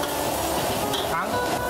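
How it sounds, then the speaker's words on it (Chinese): Fire-roasted shrimp stir-fried with lard and a handful of scallion segments over high heat in an open restaurant kitchen in Tainan, giving a loud, continuous sizzle with steady scraping and stirring throughout. "一起大火爆炒。"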